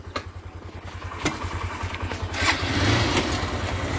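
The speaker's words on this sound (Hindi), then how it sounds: "आवाज आप दोनों ही गाड़ियों की सुन सकते हैं" Two Honda motorcycles, a Honda Livo and a Honda SP Shine lined up for a drag race, crank and start, then settle into a close, throbbing idle that grows slightly louder.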